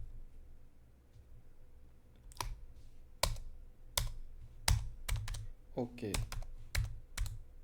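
Sharp, irregular keystrokes on a computer keyboard while Python code is typed, with bursts of clicks standing out over a low background hum; a voice speaks briefly.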